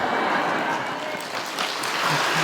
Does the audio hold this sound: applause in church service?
yes